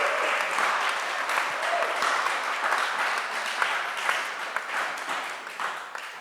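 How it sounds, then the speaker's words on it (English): A live audience claps steadily at an evening arts panel event at USF Contemporary Art, a dense, even wash of applause lasting the whole stretch, with some voices mixed in underneath. "Give her a round of applause."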